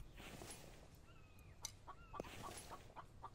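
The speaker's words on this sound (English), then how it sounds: "The chickens are everywhere today." Scattered hen clucks and short calls, fairly quiet, over outdoor background noise with a faint bird chirp or two.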